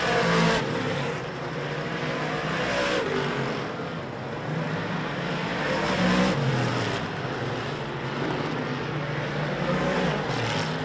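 Race car number 98H heard from an in-car camera on the roll cage during test and tune, its engine roaring loud and close without a break, with the revs rising and falling as it laps.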